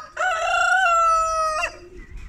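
A rooster crows once, close and loud, in a poultry yard as hens come out of the coop, a single drawn-out cock-a-doodle-doo over quiet background clucking.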